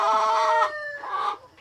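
Rhode Island Red chickens on a small farm in Cebu cluck and squawk loudly up close, two drawn-out calls separated by a short pause.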